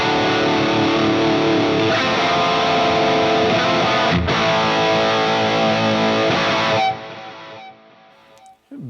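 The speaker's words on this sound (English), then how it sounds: "I'm hearing the delay and the reverb when I stop, but not while I'm actually playing my rhythm." Electric guitar rhythm chugs through a high-gain amp with delay and reverb, thick and distorted for about seven seconds, then stops, leaving a quieter tail of echoing delay and reverb before a last brief note.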